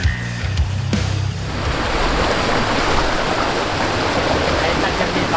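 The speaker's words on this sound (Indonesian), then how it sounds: "Adani langsung disambut sungai yang airnya jernih dan seger banget tuh." A clear mountain river rushes in a loud, steady wash of flowing water, preceded by a brief voice in the first second.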